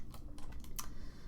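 A computer keyboard is tapped with a handful of light, scattered keystrokes over a steady low hum, close by and without speech.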